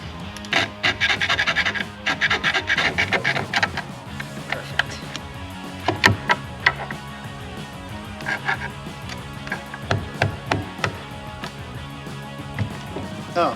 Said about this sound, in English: If I could just cut that part.